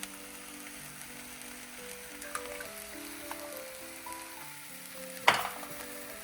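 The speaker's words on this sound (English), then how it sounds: "I am going to crack 1 egg right in this pan." An egg fries in a pan beside ramen with a soft, steady sizzle and faint crackle, then a brief loud burst of spitting as it hits the hot surface, with background music playing.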